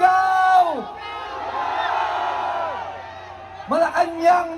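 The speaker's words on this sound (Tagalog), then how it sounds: "At ngayong gabi, pakinggan niyo ang sigaw ng sambayanang Pilipino. Sabay-sabay, sumisigaw!" A large protest crowd in the Philippines shouts together in long, sustained unison cries that swell and fade, loud and reverberant, with a sharp new chant rising at the end.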